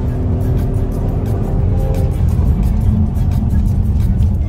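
A Mercedes-AMG CLA45 S engine roars steadily and loudly under full-throttle acceleration, a dense low rumble with road and wind noise, no voices.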